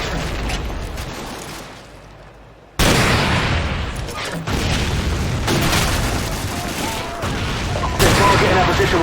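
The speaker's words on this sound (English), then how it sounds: "They're targeting our position with mortars." Mortar fire in Call of Duty 4: Modern Warfare, heavy booming impacts and rumbling blasts in a continuous loud battle din, with voices heard beneath the explosions.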